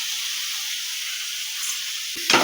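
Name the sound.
prawn gravy frying and being stirred in a pan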